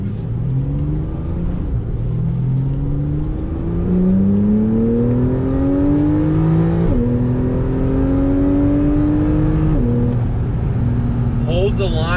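A Porsche 911 4S engine revs up through several gears while driving, rising tones climbing and dropping at each shift, with someone talking over the steady engine hum.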